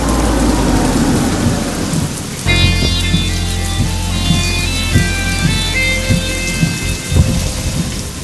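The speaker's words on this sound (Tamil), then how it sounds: "மழை பெஞ்சுக்கிட்டு இருக்கு." Heavy rain pours steadily at night, a dense continuous hiss, while a loud rumble of thunder rolls in and lingers beneath the downpour for several seconds, with no voices present.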